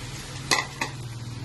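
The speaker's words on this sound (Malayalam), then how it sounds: "മസാല പിടിച്ച പൊട്ടറ്റോ നമുക്ക് ചൂടായ എണ്ണയിലേക്ക് ഇടാം." Masala-coated potato pieces dropped into hot coconut oil, giving two short bursts of sizzle and stirring over a low steady hum, close and fairly loud, with no talking.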